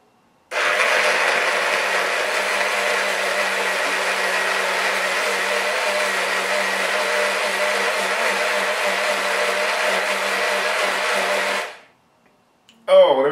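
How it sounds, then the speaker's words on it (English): A blender whirs loudly and steadily while blending vegetable soup, a constant close motor drone lasting about eleven seconds before spinning down and stopping, followed by a brief clunk. "and let's blend this thing"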